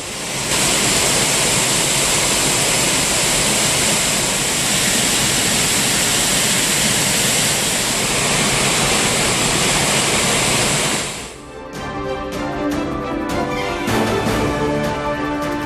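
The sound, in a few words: water roaring down the Courtallam waterfalls after heavy rain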